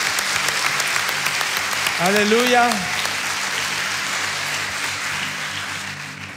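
A church congregation applauding at a pastoral ordination, with steady clapping throughout while one voice calls out briefly over it.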